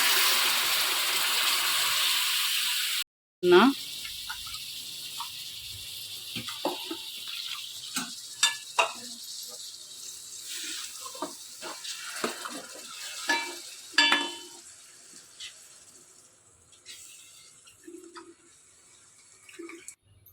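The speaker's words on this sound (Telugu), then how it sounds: "ఇవి కొంచెం సేపు వేగిన తర్వాత చింతపండు రసం వేసుకున్నాం." Tamarind juice poured into a frying fish curry base: an opening broadband sizzle-hiss gives way after a short break to close stirring clatter and scattered spoon taps with a low simmering fizz underneath, no voices.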